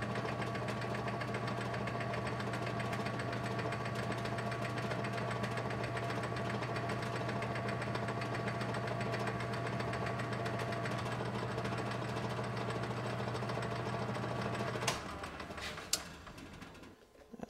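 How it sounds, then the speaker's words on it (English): A metal lathe cuts a 9 TPI thread with a steady, loud motor hum and drone that holds for about fifteen seconds, then stops, leaving a few brief clanks and quiet. "Set up to cut a 9 TPI thread"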